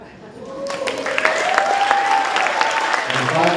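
A crowd at a Bay Area end-of-summer celebration breaks into applause, a steady wash of clapping and cheering that swells after a moment and holds, with a voice over it.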